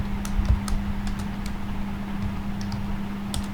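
Quick, irregular typing on a computer keyboard: light clicking keystrokes scattered over a steady low electrical hum, close by and continuous, with no voices.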